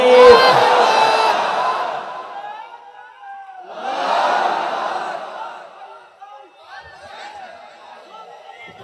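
At a Bengali Islamic sermon, a large congregation shouts a loud takbir response in two long, swelling bursts, each fading out, followed by quieter scattered voices.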